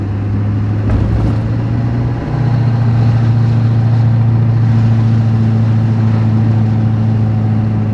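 Loud, steady drone of a Duramax diesel truck engine running close by, holding an even low rumble that shifts pitch slightly once, with no talk over it.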